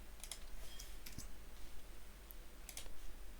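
Keys tapped on a computer keyboard in short, uneven clusters of light clicks, close and fairly quiet, with no voices.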